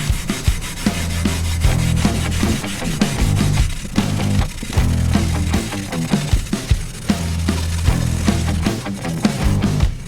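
A Brillo pad scrubs a cast iron skillet being stripped for seasoning, a close, continuous rough rubbing in quick strokes with short pauses and a low thumping underneath, no voices.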